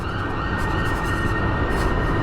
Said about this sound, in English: he could hear sirens outside